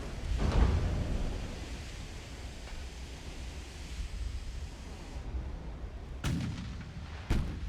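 Warship main battery guns firing in the naval video game Ultimate Admiral: Dreadnoughts: a heavy booming salvo rolls over a wash of sea and wind noise, followed by two sharper distant gun reports near the end.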